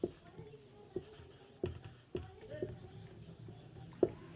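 Pen writing on a board or paper during a Hindi math class on calendars, a series of close, sharp taps and scratches spaced irregularly about every half second to second, fairly quiet.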